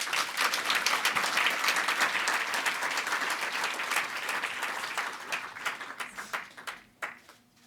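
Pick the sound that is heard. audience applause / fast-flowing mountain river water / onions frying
audience applause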